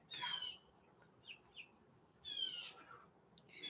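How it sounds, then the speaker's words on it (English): Birds call outdoors on a quiet afternoon, with a few bright chirps and short whistled calls in separate bursts over soft background hiss, no voices. "You hear the birds?"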